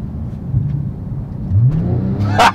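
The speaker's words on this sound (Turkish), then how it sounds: "Normal giderken Sport Plus basınca yapıyor. Dirileşiyor böyle makine." Porsche 911 Turbo S (2011) engine switched into Sport Plus mode, a low steady engine hum that swells and revs up midway, ending with a brief louder burst of noise.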